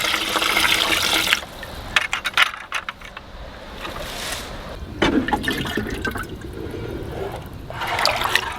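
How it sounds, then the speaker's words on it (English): Water poured from a small yellow watering can into growing containers, a broad splashing trickle that comes in uneven bursts with brief pauses, close and fairly loud. "let me get a little bit of water in my dainty little yellow watering can."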